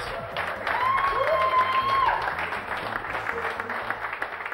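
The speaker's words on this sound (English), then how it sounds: "Big round of applause support for putting on a comedy night" Audience applause and clapping at a first-ever comedy night at a bar in Manukau, a broad wash of hands with some cheering, building then easing off, with a tonal whistle-like sweep over it in the first half.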